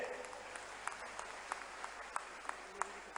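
A large crowd at an outdoor political rally during a Raksha Bandhan event in Ujjain breaks into sustained, fairly distant applause, with sharp individual claps popping out over a steady wash of clapping.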